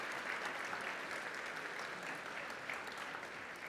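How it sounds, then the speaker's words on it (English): An audience at a Catholic college assembly applauds student debaters who won second place, a dense, even clapping that carries on steadily from start to finish. "So if we could give a round of applause to these 2 girls and Selena for her 2nd place."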